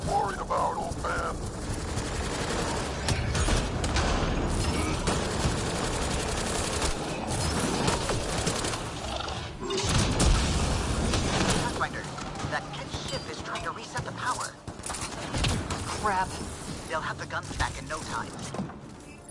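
Heavy, nonstop gunfire during a Mass Effect: Andromeda battle, with rapid bursts and occasional booming impacts, loud and near, mixed with spoken combat dialogue.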